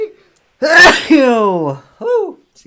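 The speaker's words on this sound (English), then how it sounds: "I'm about to sneeze." A single loud sneeze up close, a sharp intake of breath followed by the explosive burst, then a brief exhale.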